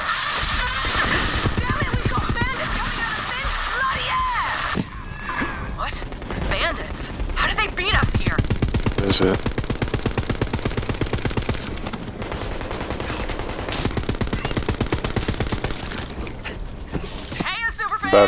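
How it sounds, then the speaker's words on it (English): A gun firing in the Borderlands video game, loud rapid machine-gun bursts in long continuous runs with brief gaps, mixed with game effects and speech. "This gun has no recoil."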